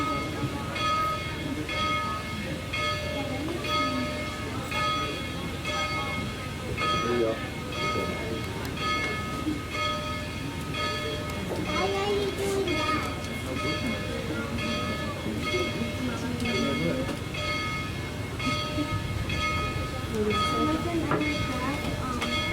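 A Tweetsie Railroad train ride gives a continuous loud rumble of rolling cars with a steady ringing tone and clanks throughout, while people talk over it.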